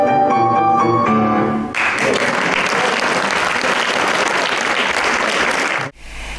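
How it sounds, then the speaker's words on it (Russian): A closing musical phrase gives way to warm, sustained applause from the audience at a stage performance by children and adults, loud and dense before cutting off abruptly. "Публика восторженно аплодировала их мастерству."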